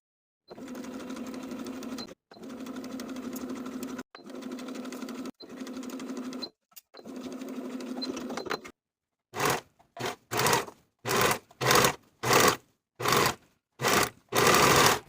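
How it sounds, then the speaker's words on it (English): A sewing machine stitches a sleeve into a blouse armhole at a 5/8 inch seam allowance, first in several long steady runs and then in a rapid series of short, separate bursts, close and alone. "Sew the sleeve into the armhole with a 5/8 inch seam allowance, finish the raw edges, and repeat to attach both sleeves."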